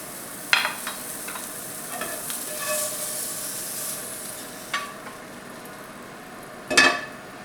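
Asparagus fries in a pan with a soft, constant sizzle close by. A few sharp clatters from utensils stand out against it, and nobody talks.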